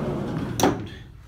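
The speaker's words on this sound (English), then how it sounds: "Let's try this side loading door with the other key." The side loading door of a 2007 Ford Transit Mk7 long-wheelbase high-top van with 210k on the clock opens with a single short clunk of the latch over a quiet background.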